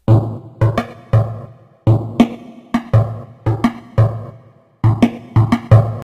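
Drum kit assembled from processed sampled sounds with reverb added, playing a steady beat of punchy hits with low thumps and brighter snare cracks repeating about every half second.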